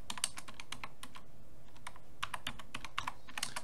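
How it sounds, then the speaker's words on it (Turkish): Quick, close clatter of keys being typed on a computer keyboard, a burst of taps, a short pause, then another burst. "Hemen yazıyorum."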